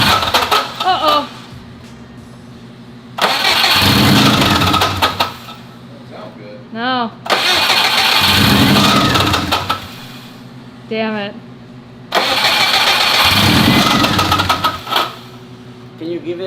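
A recovered stolen car's engine cranks in three long, loud bursts separated by pauses, each failing to catch. People talk in the gaps between attempts.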